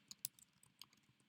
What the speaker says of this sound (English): I'm going to type Australia